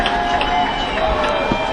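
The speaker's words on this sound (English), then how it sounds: "you can hear the crowd reacting to it" Baseball crowd noise at a minor-league game between Eugene and Vancouver, a steady dense wash of fans cheering and murmuring, fairly loud and continuous without distinct peaks.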